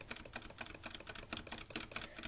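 Quick, light keystrokes tap out on a computer keyboard being used with a Nintendo Switch through an adapter, a fast uneven patter of clicks heard up close and quietly, with no talking.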